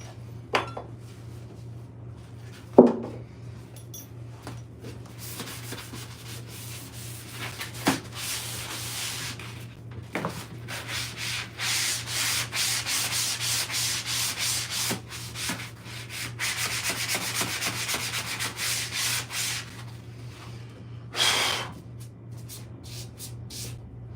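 A sponge sander rubs back and forth over wooden doors in a steady scratchy rhythm, close and moderately loud, with occasional knocks and clatters between passes and a constant low hum underneath.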